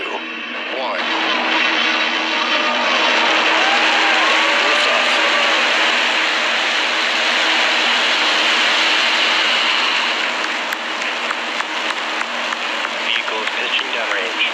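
A SpaceX Falcon 9 rocket lifts off with a broad, sustained engine roar that builds and holds for many seconds, heard under a launch commentator's voice and crowd noise.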